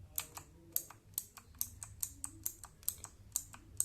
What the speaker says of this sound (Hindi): और की बात करें तो आपको मैं साउंड सुनाता हूँ।